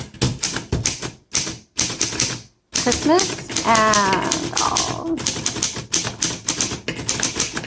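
Rapid keystrokes and carriage clatter from a 1928 Underwood four-bank antique typewriter, typed in quick bursts with short pauses, while someone talks over part of it.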